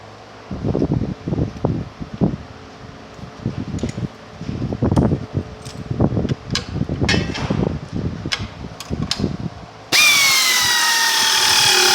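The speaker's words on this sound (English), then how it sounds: "secure the assembly with a 1/2-inch socket and a 1/2-inch wrench" Bolts on a KoldSpray A and B side assembly are tightened with a 1/2-inch socket and wrench, heard as a steady run of close, rhythmic metallic ratcheting bursts before a sustained mechanical whine takes over at the end.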